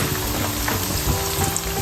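Stuffed potatoes sputter in hot oil in a pan, making a short, even, close sizzle with faint crackles and no talking.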